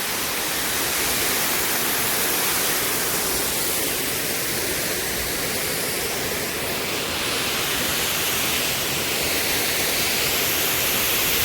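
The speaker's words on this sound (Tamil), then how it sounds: "இந்த கோயிலுக்கு பக்கத்தில் தான் சின்ன ஃபால்ஸ் தாங்க இருக்கும்." Small waterfall beside a hill temple in forest, water coming down from the mountain top: a steady, dense, broadband rush of falling water close by, unbroken throughout with no voices.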